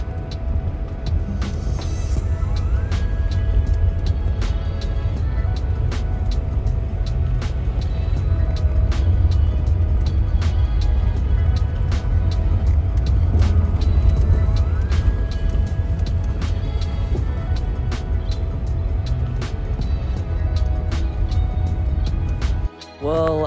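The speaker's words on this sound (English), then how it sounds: "I'm gonna drive around and see what else I can find." A car drives slowly around a campground, its engine a steady low rumble with the crunch of tires, and a regular ticking runs through it the whole way, with a brief squeal near the end.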